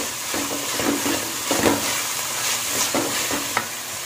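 Carrots and mixed vegetables being stir-fried for veg fried rice, a continuous sizzle with repeated scraping strokes of a spatula in the pan, close and fairly loud with no talk.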